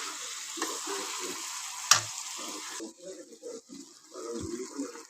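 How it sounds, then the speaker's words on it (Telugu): Chicken curry being stirred in a pan, a soft sizzle with repeated scraping strokes of a spoon, one sharp clink partway through, the frying quieter in the second half. "మధ్య మధ్యలో ఇలాగ ఒక్కొక్కసారి కలుపుకుంటూ ఉంటే ఒకవేళ అడుగు కానీ పడద్దేమో, అడుగు పట్టుకోకుండా మాడకోకుండా ఉంటుందని చెప్పేసి కలుపుతున్నాను ఇలాగా."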